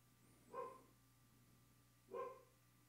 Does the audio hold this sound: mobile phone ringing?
no